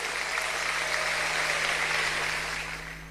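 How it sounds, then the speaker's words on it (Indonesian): A church congregation gives hearty applause for God during a sermon, a steady even wash of many hands clapping with a faint low hum beneath, easing off slightly at the end. "Berikan tepuk tangan yang meriah buat Tuhan."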